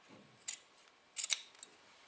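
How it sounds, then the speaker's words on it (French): Scissors cut the fabric corner of a hem in a few sharp, close snips, two brief clusters and then a final click, with no talk. "Je vais couper comme ça."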